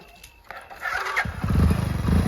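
A motorcycle engine starts up, catching after a brief crank and settling into a loud, steady idle rumble close by, with no talking over it.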